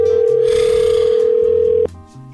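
A loud, steady telephone dial tone holds for almost two seconds and then cuts off abruptly, leaving a low hum as the call goes through.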